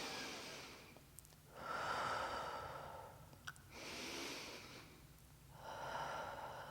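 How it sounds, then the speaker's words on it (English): Slow, deep yoga breaths come in three long, airy swells, each rising and fading with quiet pauses between, close and unaccompanied by speech. "Keep breathing."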